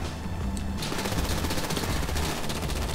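Rapid automatic gunfire from the video game GTA, loud and dense, with bursts running continuously over a busy game soundscape.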